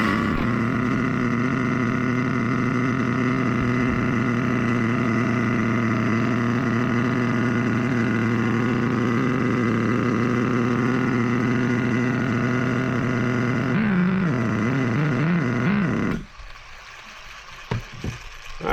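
A 2004 HPI Savage 25 nitro RC truck engine running indoors during break-in, a loud steady high-pitched buzzing drone that wavers as the throttle shifts near the end, then cuts off abruptly, no talk.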